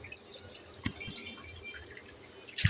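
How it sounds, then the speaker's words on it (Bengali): Cut vegetables are rinsed under water, with a few faint, close drips and small splashes breaking a quiet background. "আমি এখানে তরকারি কেটে কেটে এখন ধুয়ে ধুয়ে রাখছি"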